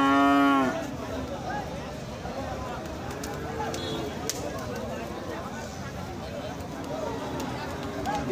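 A cross-breed bull moos with a short, loud low call at a cattle market, followed by a busy background of hooves, shuffling animals and people talking.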